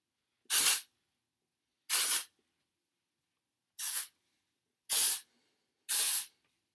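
A hair product sprayer fires five short, separate bursts of hissing mist, evenly spaced with silent gaps between them, close and fairly loud.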